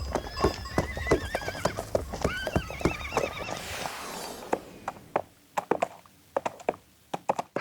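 Rhythmic clip-clop hoofbeats, imitated with hollow knocks of two plungers, under a voice neighing like a horse; the steady hoof clopping continues alone and slows toward the end.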